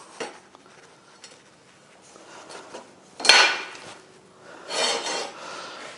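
A hand rivnut tool squeezed to compress a rivnut while fitting stern seating in a narrowboat build, making a few short metallic rasps and scrapes, with one sharp squeeze near the middle and another toward the end, close and fairly loud.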